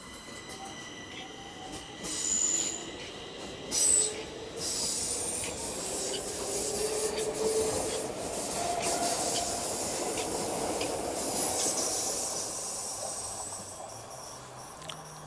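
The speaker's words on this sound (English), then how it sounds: "grab a shot of the train departing" A train pulls out of Ängbyplan station with a steady rolling rumble, airy hiss and faint wheel squeal building around it, loud and close, with no talking.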